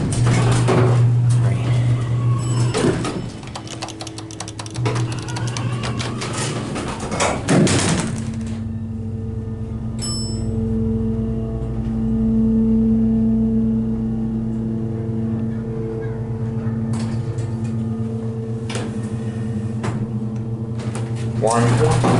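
A Dover hydraulic elevator in a JCPenney store at a mall in East Brunswick, NJ, with its doors clunking and sliding, then a steady low hum and drone of the car in motion, heard close with people talking over it.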